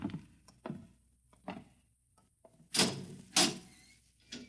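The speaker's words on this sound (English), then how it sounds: "Just a few steps up, and another door." A heavy steel door in an old radio drama, set in an unusual double-walled silo, opens with a series of dull thunks and knocks, then two louder grinding scrapes, heard close with no talk.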